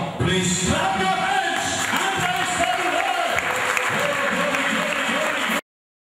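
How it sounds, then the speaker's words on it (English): Congregation clapping hands during singing and praise at a Christian convention, a steady crowd applause with talk and music underneath throughout. "Whenever we are singing and praising the Lord, please clap your hands."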